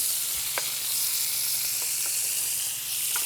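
ButcherBox top sirloin steaks sear in a pan with a loud, constant hissing sizzle, dotted with a few faint pops and spits, heard close and without talk.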